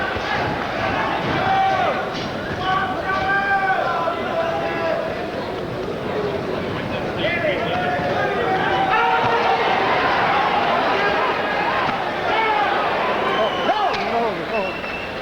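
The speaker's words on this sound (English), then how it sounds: "Crowd starting to chant Chavez," An arena crowd at a Julio Cesar Chavez vs. Sammy Fuentes boxing match roars and chants Chavez, a continuous dense crowd din heard throughout under a commentator's voice.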